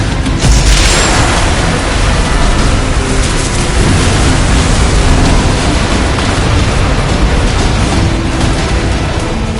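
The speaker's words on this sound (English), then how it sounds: "Has the Gauss cannon been reloaded? Fully charged. Fire." A Gauss cannon fires in the video game Unearthing Mars 2: The Ancient War, a heavy booming blast that opens loud and then rolls into a long, dense, roaring rumble.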